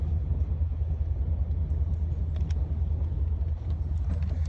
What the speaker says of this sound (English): I'm gonna back up out of here, hit the road, man.